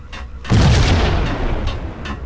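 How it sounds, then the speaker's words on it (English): A grenade explodes in the video game Max Payne as a sudden loud boom with a rumbling, crackling tail that lasts about two seconds. "I'm just gonna throw a grenade"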